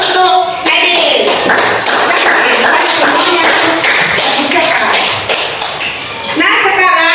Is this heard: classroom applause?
yes